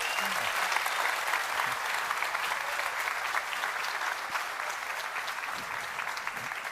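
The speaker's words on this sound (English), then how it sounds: "with a really big applause for thanking them" Steady audience applause from a crowd thanking panel speakers at a startup talk on failure, dense and sustained throughout, close and full, with no voices standing out.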